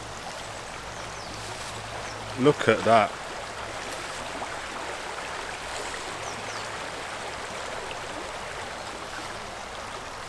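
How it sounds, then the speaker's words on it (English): A countryside river flows with a steady, broad watery rush under gusty wind, interrupted once by a brief burst of close handling noise and a short spoken remark. "Lovely river in the countryside."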